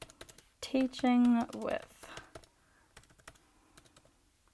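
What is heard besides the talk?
typing a search on a computer keyboard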